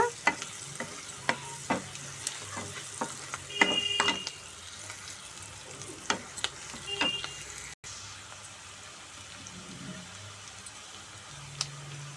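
Onions frying in a pan for a small-shrimp curry, a steady sizzle broken by repeated sharp scrapes and clinks of a spatula stirring, close and fairly loud with no voices.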